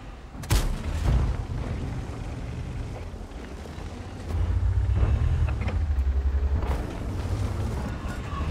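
Tank guns firing in World of Tanks on the Oyster Bay map: a sharp, loud cannon blast early on, then further booms and impacts over a rumbling engine bed.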